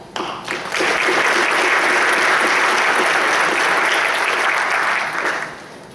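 Audience applause at a 16th Ordnance Battalion graduation ceremony, a sustained burst of many hands clapping that rises quickly, holds loud and steady for several seconds, then tapers off.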